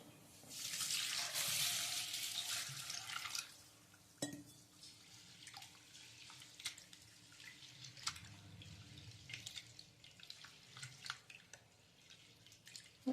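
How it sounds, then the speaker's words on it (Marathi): Running tap water and swishing as lentils (dal) are rinsed in a pot for rasam vada, with a strong pour at first, then softer sloshing, drips and light clinks close by. "आता ही डाळ मी धुवून मग भिजत घालणार आहे"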